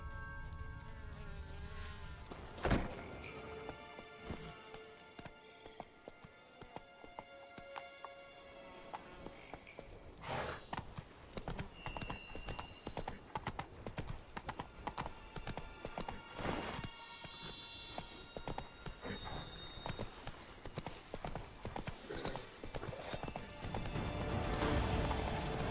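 Hoofbeats of a horse named Roach in The Witcher 3 video game, a steady clip-clop rhythm running through most of the stretch with occasional whinny-like bursts, over game ambience and music.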